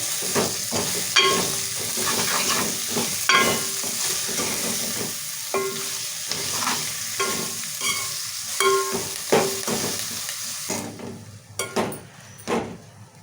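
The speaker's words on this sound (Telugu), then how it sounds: "ఇప్పుడే కలుపుకుందాం మరొకసారి" A spoon stirring dal in a pot over a low simmer and sizzle, with irregular knocks and scrapes against the metal.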